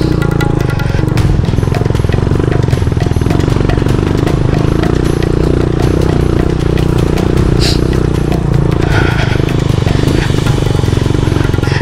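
A motorcycle engine labours loudly and steadily up a steep rocky road linking Pangasinan and Zambales, with constant close roar and clattering over stones throughout.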